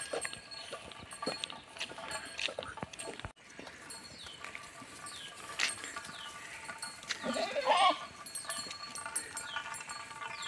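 Goats and cattle move through forest, scattered hoof clatter and bleat-like calls over a busy natural backdrop of birdsong, fairly faint and distant, with a sudden knock early on.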